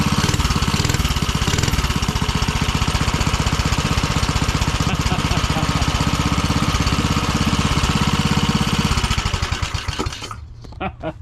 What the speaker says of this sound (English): I think that's my new favorite engine.